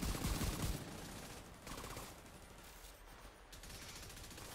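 Gunfire in The Division 2, a rapid burst of shots at the start followed by fainter scattered firing and distant rumble.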